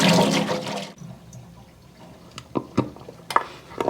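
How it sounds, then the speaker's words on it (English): Water rushes loudly as roselle pods get a final rinse in a pot, then stops, leaving a quieter stretch broken by a few drips and light clinks. "I'm going to put them in this pot, but I am going to give them one more rinse."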